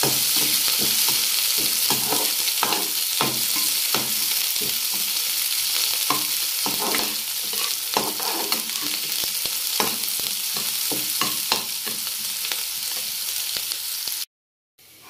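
Green chillies and onion fry in an iron pan while being stirred for okra sabzi, a constant loud sizzle broken by repeated spatula scrapes and knocks, close up and without talk until it cuts off near the end.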